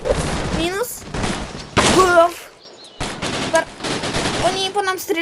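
Rapid bursts of video-game gunfire crackle in quick succession, dense and loud, with a voice talking over parts of the shooting, in a game fighting a group of Gorefields.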